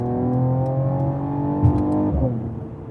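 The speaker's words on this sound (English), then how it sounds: "Yeah, the burbles, the note that they created here is very good." A 2021 Mercedes-AMG GT 43 4-Door Coupe engine hums with harmonic tones, then briefly revs and lets out a few crackling exhaust burbles before settling back down.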